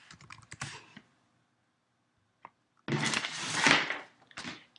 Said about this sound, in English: And we're gonna be typing in CD downloads.